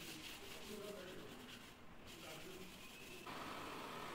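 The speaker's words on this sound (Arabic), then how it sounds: "نبدأ نصنفر جميع الأفاريز والحلايا اللي موجودة داخل الشغل ونظبطها" Sandpaper of 220 grit rubs steadily and continuously over carved wooden moulding being prepared for polyester finishing. The scratchy friction is close and constant, with a brief dip partway through.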